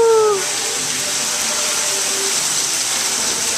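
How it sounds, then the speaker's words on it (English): Continuous rushing, splashing water from an indoor hotel waterfall, loud and even throughout, after a brief high-pitched tone at the start. "is the waterfall of the hotel."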